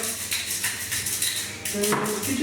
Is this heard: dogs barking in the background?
no